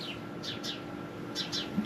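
Small birds chirp outdoors in short, bright bursts, a few quick calls in two clusters that stand out clearly over a soft background hiss.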